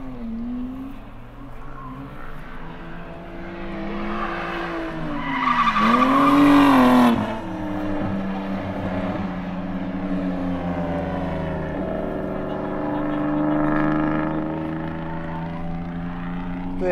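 A car drives past on rubber-streaked asphalt at a drifting spot, engine revving with shifting pitch and a brief tire squeal at its loudest, close and loud, while a low motor hum continues underneath.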